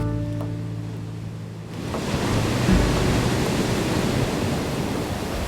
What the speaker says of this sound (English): these waves are enormous